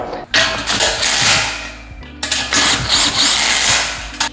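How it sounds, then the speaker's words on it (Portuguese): Cordless screwdriver driving screws into the bases of an LED panel, two loud close whirring bursts of a couple of seconds each, separated by a short pause, with no talk. "parafusadas as bases, com 4 parafusos e parafusadeira"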